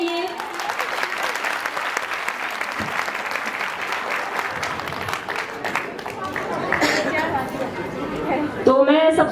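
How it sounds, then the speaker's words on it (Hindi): Loud, sustained applause from a seminar audience fills the room, steady dense clapping with a few voices and cheers rising near the end. "एक बार जोर से तालियां बजा दीजिए अपने लिए"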